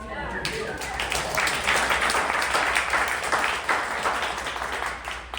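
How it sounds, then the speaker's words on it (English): A crowd applauding continuously, a dense wash of many hands clapping with no voices rising above it, fading slightly toward the end. "This woman deserves every applaud that she got from you guys."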